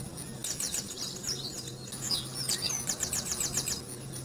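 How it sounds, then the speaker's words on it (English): Small birds chirp and tweet in quick, bright bursts, several calls overlapping at moderate distance against a soft background hum, with no talking. "How do you guys like the birds chirping?"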